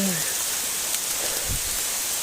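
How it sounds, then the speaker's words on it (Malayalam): Steady, dense rainfall hisses continuously across the whole stretch, a broad wash of noise with a brief faint voice near the start. "പൊരിഞ്ഞ മഴ എന്ന് പറഞ്ഞാൽ നല്ല മഴ"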